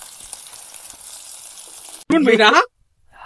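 Fish frying in oil over an outdoor village fire, a steady low sizzle heard close for about two seconds before a voice briefly cuts in and the sound stops.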